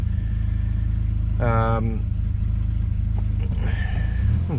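A 2010 Dodge Caravan engine running with a slight misfire, a steady low idle hum close by, with a brief whine and a few knocks over it.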